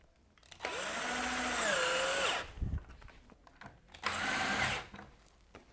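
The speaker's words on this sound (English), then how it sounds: "get the rest of the screws put in" A power drill drives screws into a friction hinge, whirring in two distinct bursts, a longer one and then a shorter one, each rising and settling in pitch, with quiet handling noise in between.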